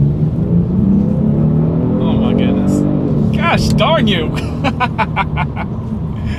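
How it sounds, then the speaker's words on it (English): A 2021 Genesis G70 with a twin-turbo V6 pulls hard down a straightaway, its engine droning loud and steady throughout, while a voice exclaims excitedly over the roar. "Let's see how quickly we can get the G70 here up to speed."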